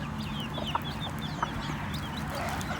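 A native Thai hen gives a few soft, low clucks while chicks peep in quick, high chirps around her, close by in a quiet farmyard.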